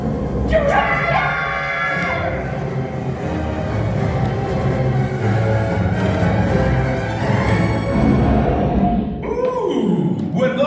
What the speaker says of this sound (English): That's the sound of a dragon!